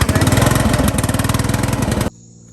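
A farm lawn mower engine runs loud and close with a steady pulsing chug for about two seconds, then cuts off abruptly, leaving only a faint low hum.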